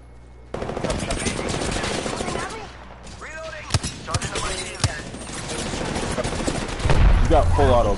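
Close, loud automatic gunfire in Apex Legends arrives in rapid bursts with sharp individual shots between them, and a voice talks in the background.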